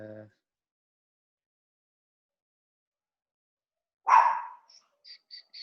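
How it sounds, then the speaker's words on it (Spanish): A dog lets out a single sharp bark at close range, followed by a few faint, short yelps, after a brief murmur of a voice at the start and a long stretch of silence. "Mientras silencio a mi perro también"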